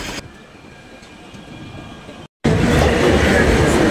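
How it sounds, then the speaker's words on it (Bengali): An empty Howrah–Dankuni local train rolls past alongside, a steady rumble and rattle that swells loudly after a brief dropout, with a voice faintly present. "পাশে দেখুন একটি local train, Dankuni local, Howrah Dankuni local যাচ্ছে"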